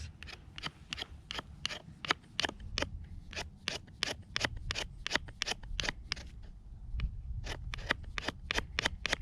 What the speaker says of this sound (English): you can take the back of your knife, yeah, and just start scraping down like this